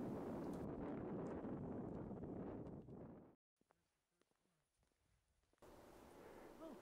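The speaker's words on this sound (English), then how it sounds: "it was so windy I didn't want to end up down there myself." Strong wind gusting at a volcanic crater rim in Death Valley, a loud roaring buffet against the microphone that cuts out briefly midway before the rush of wind returns.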